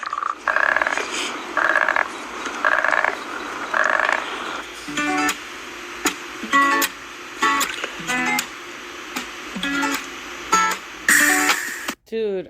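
Repeated frog croaks during a night walk, a series of evenly spaced calls up close, later interrupted by sharp clicks and rustling handling noises.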